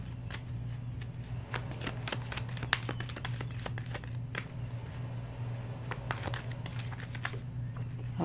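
Gilded Tarot cards are shuffled close at hand with soft, repeated riffling and shuffling, quiet against a low steady hum.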